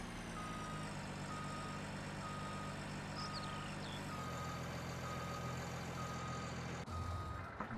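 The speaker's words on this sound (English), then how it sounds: "that is still in reverse. We can hear the beeping going" Reversing truck in the Farming Simulator 19 forestry game, with regular evenly spaced backup beeps over a steady diesel engine drone, clearly audible throughout.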